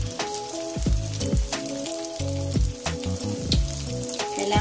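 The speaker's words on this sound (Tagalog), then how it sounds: "Lagay na po natin yung Shanghai. Prito na po siya." Vegetable lumpia shanghai fry in hot oil with a continuous crackling sizzle, while sharp clatters and scrapes of a utensil or pan recur close by throughout.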